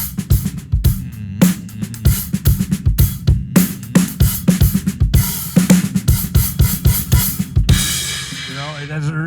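A bright, high-pitched 14-inch A Zildjian hi-hat plays a tight groove with crisp, rapid rhythmic strokes alongside drum hits, the pattern ending in a short fading wash.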